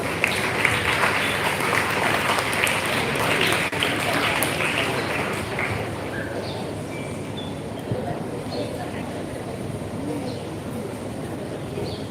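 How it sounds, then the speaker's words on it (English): An audience at a school event claps to welcome a student onto the stage, a dense, steady applause that starts loud and eases somewhat, with a few faint voices among the crowd. "Let's encourage him with a big round of applause."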